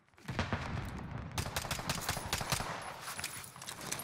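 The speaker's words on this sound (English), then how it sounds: "Who is shooting at me?" Rapid gunfire from the video game Call of Duty Warzone rattles in dense, continuous bursts for several seconds, loud and with no talking over it.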